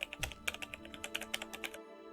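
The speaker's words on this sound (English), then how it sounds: "I was working in my home office, typing on my computer." Quick, light keystrokes tap on a computer keyboard in a quiet home office, a brisk irregular run of about a dozen clicks close to the microphone before it falls silent.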